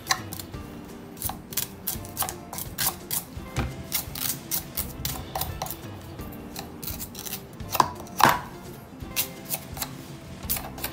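A knife works at a coconut's soft outer husk, making a string of close, irregular scraping and slicing strokes with a couple of sharper cuts near the end.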